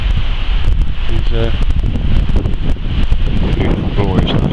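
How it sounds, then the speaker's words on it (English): Steady wind roars and buffets the microphone, with brief bits of voices and a faint rustle underneath. "it's a bit windy"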